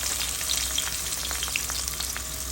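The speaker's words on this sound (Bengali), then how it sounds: "ভাজিটা বসাই দিতেছি এই চুলায়। দিয়ে দিলাম ভাজির জন্য" A vegetable fry sizzles in a pan on the stove, a steady close hiss with scattered crackles and pops, no talking.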